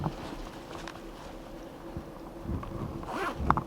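Zippers on a HUNTIT HV01 turkey hunting pack are pulled in a couple of quick, scratchy zips near the end, after a quieter stretch of faint handling rustle, all close to the microphone.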